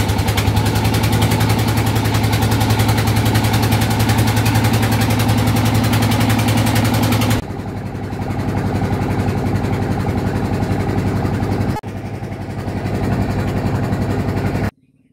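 Engine of a passenger launch idling at a river or lake landing in Rangamati, a loud, steady low droning rumble close by throughout, dropping slightly in level partway, with no talk over it.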